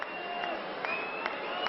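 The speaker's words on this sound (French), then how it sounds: "Des applaudissements et des sifflets." A crowd at the Salon de l'Agriculture in Paris, during a presidential visit, keeps up steady applause pierced by several sharp whistles, loud and dense throughout.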